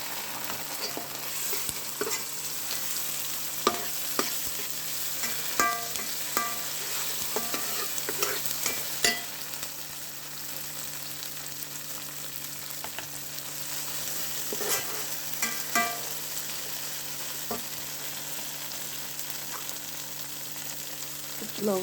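Ginger, garlic and cumin paste frying with leafy greens in a pan, a constant soft sizzle under occasional light stirring clicks and scrapes, with a steady hum in the background.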